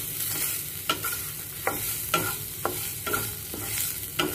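Coconut cooks with spices in a pan while a spoon stirs it, giving periodic scraping strokes about every half second over a steady low sizzle, with no voices.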